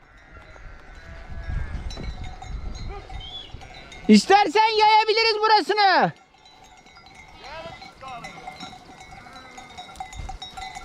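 A flock of sheep bleats and calls on the way home, with a burst of loud overlapping bleats close by amid wind and faint bells, while people talk before and after.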